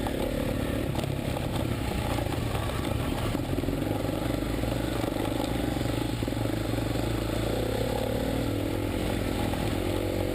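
A KTM 350 dirt motorcycle on a forest single-track trail, its engine droning steadily at low revs throughout, close and continuous with a rough, buzzing edge.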